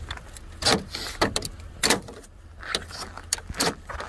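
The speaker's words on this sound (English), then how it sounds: "There is no screws, just these plastic clips. So you wanna go all around until all of these pop out." Plastic clips popping loose from the front grille of a Chevrolet Impala, a series of sharp snaps and clicks spaced irregularly over a few seconds, close by.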